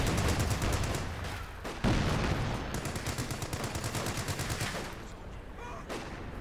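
Dense, rapid gunfire and explosive bursts from a Company of Heroes 2 battle, with rattling automatic fire and sharp reports crowding together continuously and loudly throughout.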